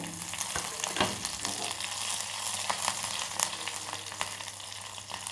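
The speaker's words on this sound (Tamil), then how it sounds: "கடுகு நல்லா பொரிஞ்ச பிறகு வரமிளகாவும் கருவேப்பிலையும் போட்டுக்கோங்க" Mustard seeds, dried red chillies and curry leaves fry in hot oil for a tamarind curry, giving a dense, close crackling sizzle with scattered pops throughout, no voices.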